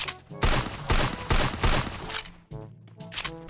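Rapid video game gunshots crack in a quick series of loud bursts with short gaps between them, and no talk over them.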